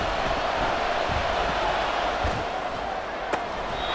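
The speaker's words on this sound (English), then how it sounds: "the crowd getting into it as we come up on a big third down" A football stadium crowd in a video game roars steadily ahead of a big third down, a dense continuous mass of cheering and shouting that stays loud throughout, with a brief sharp spike near the end.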